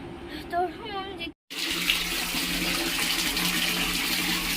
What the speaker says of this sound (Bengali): সকালবেলায় এখন হচ্ছে কলে জল দিয়ে দিয়েছে